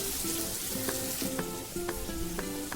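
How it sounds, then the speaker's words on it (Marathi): Onion and tomato sautéing in oil for a masoor dal dish: close, bright sizzling and crackling with spatula scrapes and light stirring knocks recurring through the short stretch. "अशा पद्धतीने बघा तेल सोडलेलं आहे कांदा आणि टोमॅटोने अशा पद्धतीने परतून घ्यायचं आहे"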